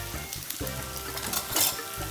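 Pork frying in a pan with too much oil sizzles loudly and continuously, with bursts of spattering and stirring scrapes close to the mic; no talking.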